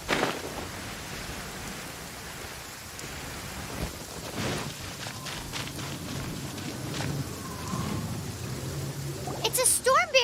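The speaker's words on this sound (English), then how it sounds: "It's a storm barrier! It looks so dangerous." A storm barrier in the video game Genshin Impact gives steady heavy rain and low rolling thunder, building in intensity. Bright chime-like effects rise at the end.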